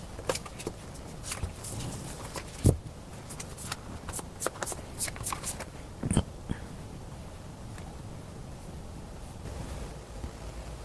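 Tarot cards are shuffled and drawn by hand: a run of soft riffling, slapping and flicking bursts up close, thinning to occasional taps and quiet handling, with no talk over it.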